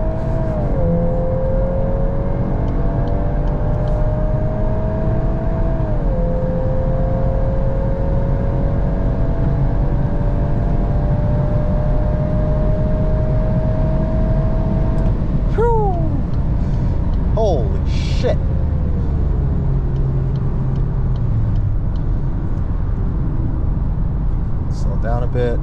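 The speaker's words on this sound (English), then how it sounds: "Oh my god, I did an all-wheel or four-wheel burnout." A 2023 VW Golf R with DSG gearbox roars through an all-wheel burnout, its engine holding a loud, steady high-rev drone with shifting pitch and tyre noise throughout, while people talk and exclaim over it.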